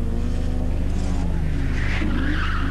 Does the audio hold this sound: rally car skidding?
yes